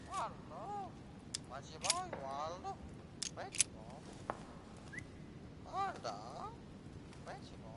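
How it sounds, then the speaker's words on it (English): A myna bird in the video game The Council gives repeated harsh honking and squawking calls, with several bursts spread across the moment over a quiet background. "A myna bird."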